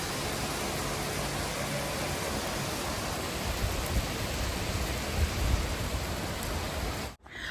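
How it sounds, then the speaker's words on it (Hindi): Heavy rain pours down in a dense, steady roar that fills the whole clip, loud and close, with no voices, and cuts off abruptly at the very end. "इतनी तेज बारिश हो रही है।"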